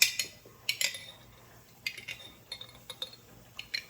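Metal teaspoon clinking against glass canning jars while portioning ingredients for raw-packed split pea soup, with a series of sharp, light clinks and taps at uneven intervals, close and moderately loud.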